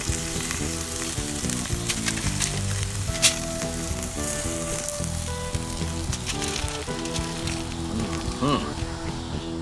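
Ribeye steak searing in a hot pan with no butter, a loud steady sizzle and crackle throughout, with music or voices faintly underneath.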